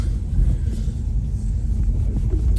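A car on the move gives a constant deep engine rumble, heard close from inside, steady and loud with no voices.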